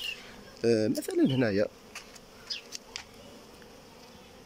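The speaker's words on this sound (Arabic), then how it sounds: "كيما رانا نشوفوا النحل يدخل في كل المدخل هنا" Honey bees buzz steadily around a beehive entrance at an apiary in Algeria, a close, continuous hum with someone speaking briefly over it.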